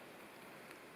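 Light misty fall rain at an off-grid log cabin: a soft, even hiss of fine drizzle, faint and steady, with no voices.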